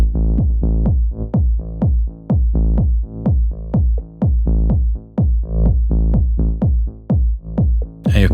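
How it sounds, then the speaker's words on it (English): A deep synth bass plays a repeating pattern, each note swelling in and ducking rhythmically in a steady pumping pulse from gain automation simulating sidechain, loud and alone. "I'm automating the gain knob just to kind of simulate sidechain sound"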